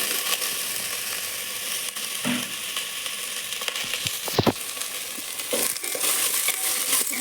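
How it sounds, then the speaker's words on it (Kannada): Onion, garlic and tomato fry in a pan for a horse gram sambar, a steady close sizzle with occasional stirring scrapes and clanks of a utensil against the pan. "ಫ್ರೈ ಮಾಡ್ಕೊಳ್ಳಿ ನೀಟಾಗಿ ಸ್ವಲ್ಪ ಕಲರ್ ಚೇಂಜ್ ಆಗೋವರೆಗೂ ಫ್ರೈ ಮಾಡ್ಕೊಳ್ಳಿ"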